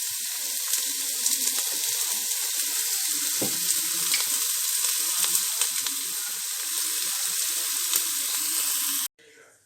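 Chopped onions sizzling in oil in a cooking pot, a steady bright crackling fry held throughout at close range, with a faint clink partway through before the sound cuts off abruptly at the end.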